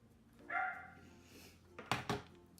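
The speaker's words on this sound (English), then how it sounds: "My dogs are so angry at something outside." Dogs barking indoors at something outside: a drawn-out whine or yelp, then two or three sharp barks, faint and somewhat distant.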